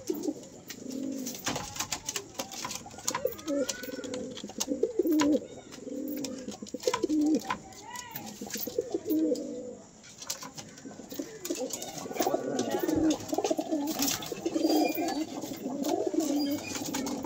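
Giriraj pigeons coo in repeated low, throaty rolls close by, with scattered chirps and brief wing flutters, continuing steadily throughout.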